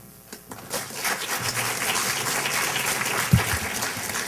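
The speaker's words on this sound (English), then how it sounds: "I now ask you to hold your applause to the end" An audience at a League of Women Voters candidate meet and greet breaks into sustained applause that swells and holds steady, with a thump near the end.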